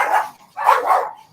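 Several dog barks sound close by in two bursts, one bark and then a pair of quick ones, loud and clear with no talking.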